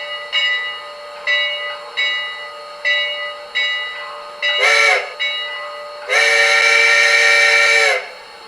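A TCS WOW Heavy Steam sound decoder in a model steam locomotive sounds a series of short whistle toots, then a longer blast and a sustained whistle of about two seconds, loud and close with a faint hiss underneath.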